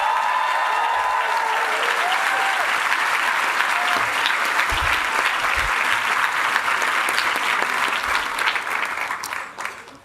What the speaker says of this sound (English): if you would give the faculty of the Lynch School another round of applause